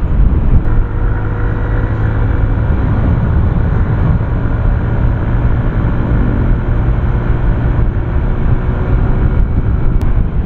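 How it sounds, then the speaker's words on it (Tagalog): Suzuki Skydrive Sport motorcycle on a long ride, a loud steady engine drone mixed with heavy wind rush that holds constant throughout. "Tingnan naman natin how this bike performs sa long rides."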